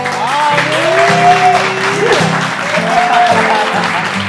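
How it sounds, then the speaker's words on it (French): Applause from a studio audience, fairly loud and continuous, with tonal sounds sliding over the clapping and a steady low-pitched pulsing underneath. "ce sont nos anges qui viennent d'applaudir comme ça"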